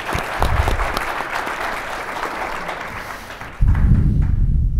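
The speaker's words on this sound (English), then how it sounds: "How about a round of applause for TAMEST?" Audience applause at a TAMEST 2020 conference on research and commercialization in Texas, steady clapping from a seated crowd that thins and fades, then a louder low rumble of room noise takes over near the end.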